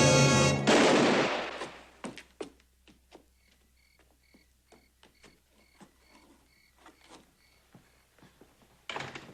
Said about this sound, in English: Where'd that shot come from?